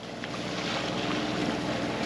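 A sailboat motoring at around six knots with its engine running, a steady low drone blended with wind and water rushing past the hull, continuous and close with no talking.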